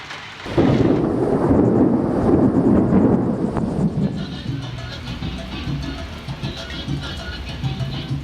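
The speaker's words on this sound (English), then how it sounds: "the thunderstorms are kind of freaking me out" A loud rumble of thunder rolls through steady rain during a thunderstorm on Blythe Island, Georgia, fading into a continuous patter with faint background sounds.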